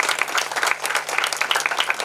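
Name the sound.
audience applause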